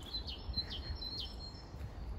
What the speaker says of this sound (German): die Vögel verraten es halt auch. Ne? Die zwitschern und pfeifen wieder viel